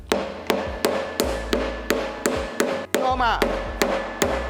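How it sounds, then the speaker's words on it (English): A hammer cracking a hard coconut with about a dozen sharp, evenly spaced strikes, loud and close, while a voice speaks briefly in between. "Now we crack the coconut"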